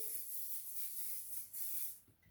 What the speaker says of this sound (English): Give our pan a little bit of spray.